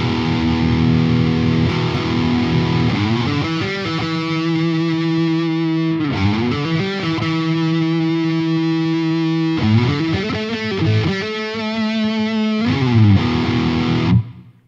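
Electric guitar played through the lead channel of an Engl Savage 60 Mark II all-tube head, heavily distorted and sustained, with held chords and quick runs ringing out loud and alone before cutting off at the end.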